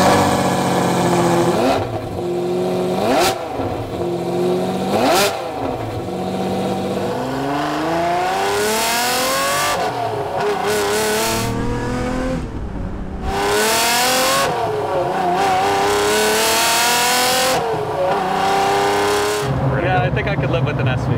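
A Lamborghini Diablo SV engine revs repeatedly while driving, climbing through the gears with rising wails and brief drops at each shift, loud and close under occasional talk.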